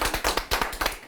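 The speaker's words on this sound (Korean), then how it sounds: "박수 한번 주세요." A small group claps at a company meeting, a brief burst of close, uneven handclaps lasting about a second.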